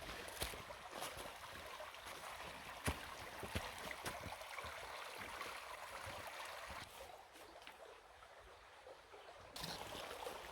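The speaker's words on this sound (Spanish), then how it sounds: "Fijaos aquí poco antes de llegar a este puentecito, cómo discurre el agua." Steady river water flowing and gurgling just before a small bridge near the old mills of the Vinalopó at Banyeres de Mariola, Alicante, a continuous soft rushing with no voices.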